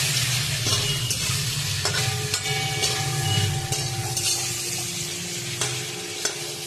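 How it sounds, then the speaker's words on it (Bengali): Fried pumpkin pieces stirred in a hot pan over lowered gas, giving a steady close sizzle with scraping stirs and a few sharp utensil knocks throughout. "এবার ভাজা কুমড়োটা দিয়ে দেবো, দিয়ে গ্যাসটা কমিয়ে একটুখানি কষাবো।"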